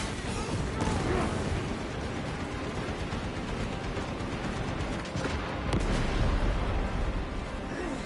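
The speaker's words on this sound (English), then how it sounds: "Frag grenade out." A frag grenade explodes in the Space Marine II video game, a loud, dense rumbling blast within continuous battle noise and gunfire. A voice speaks over the din.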